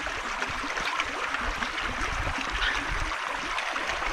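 A stream flows past a homemade water mill with a steady, close, continuous rush and gurgle of water and no talk.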